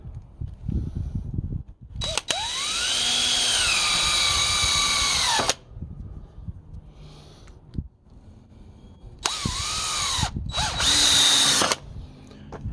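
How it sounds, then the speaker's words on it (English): A power drill drives screws into a wooden seed starter table in two close, loud runs, the first long and rising in pitch, the second shorter and broken into spurts, with soft handling noises between. "And we'll screw it in place."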